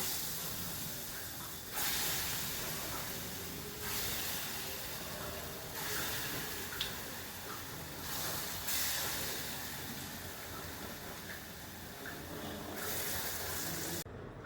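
Lentil fritters (bora) frying in hot oil in a home kitchen, a steady broadband sizzling hiss that swells and eases in waves as batches cook, close and fairly loud with no talking.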